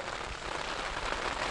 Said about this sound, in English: It's still raining, and it's starting to become a problem